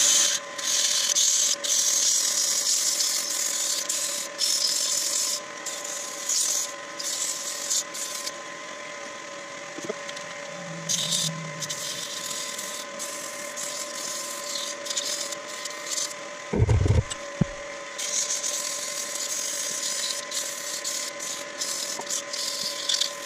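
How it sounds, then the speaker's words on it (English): Sandpaper, 120 grit, rubbing against a small wood-turned Christmas tree spinning on a lathe, giving a steady, close rasping hiss over the motor's hum, with short breaks and a brief thump partway through. "Time to sand"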